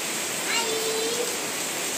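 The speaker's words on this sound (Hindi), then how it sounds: "इतनी जोरों की हमारे इधर बारिश होने लगी" Heavy rain pours down in a village in a dense, continuous roar of water, with a voice faintly audible beneath it.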